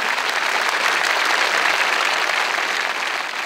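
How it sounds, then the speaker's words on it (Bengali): An audience at the Meril Prothom Alo Award 2023 ceremony applauds loudly and steadily, a dense, continuous wash of clapping that holds the whole time without a break. "সো আপনাদের জন্য সবাইকে একটা হাততালি দেওয়া উচিত আমি মনে করি।"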